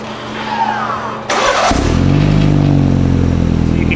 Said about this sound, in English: it's best to remote start the car